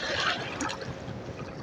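Water sloshes and splashes softly as a small channel catfish is slipped back into a river at Lockport, Manitoba, a brief close watery burst fading into gentle trickling.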